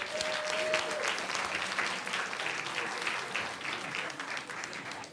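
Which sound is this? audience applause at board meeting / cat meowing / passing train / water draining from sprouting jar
audience applause at board meeting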